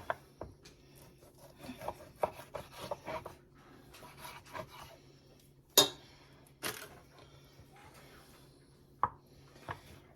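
A knife works through root beer BBQ ribs on a board, making scattered scraping and rasping strokes with a few sharper knocks, close and moderately quiet, no talk.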